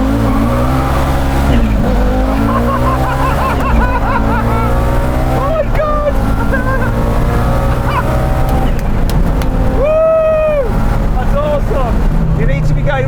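An Audi Quattro's engine roars continuously during a drag race, heard from inside the car, loud and steady with pitch climbing through gear changes and a sharp high whine near the end, while a person talks over it.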